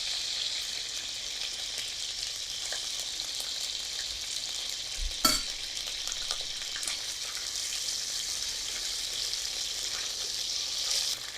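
Boneless chicken breast pieces cook in hot oil with ginger-garlic paste, giving a steady close sizzle and crackle throughout, with one brief sharp clatter midway and no voices.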